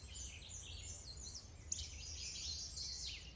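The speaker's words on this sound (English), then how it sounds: "So in this one, we're hearing American redstart." An American redstart sings in South Porcupine, Ontario, high thin chirping phrases repeated a few times, faint and somewhat distant over a low steady background hum.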